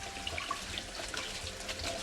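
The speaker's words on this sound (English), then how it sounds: "I'm just gonna break it from cooking further by pouring cold water" Cold water pours over drained noodles for Chicken Singapore Noodles, a steady, soft splashing and trickling stream running throughout, quiet and close with no talk.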